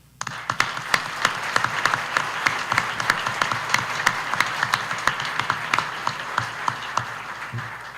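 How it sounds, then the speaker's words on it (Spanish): Audience applause at the IV Congress of the Mexican Society of Labor Law: a dense, steady round of clapping from a seated crowd, with sharp individual claps standing out throughout, sustained for about eight seconds. "Y a todos les pido un aplauso para él."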